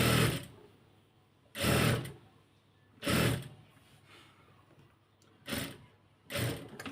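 Domestic sewing machine stitching a maxi dress shoulder seam at the neckline, running in five short, even bursts separated by quiet pauses, close and moderately loud with no talk.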